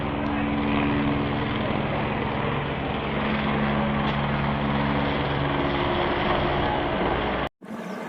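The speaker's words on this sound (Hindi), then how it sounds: "एक कार्गो हेलीकॉप्टर है भाई साहब" A cargo helicopter flies overhead in Kanpur, producing a loud, steady rotor-and-engine drone that holds for several seconds before cutting off abruptly near the end.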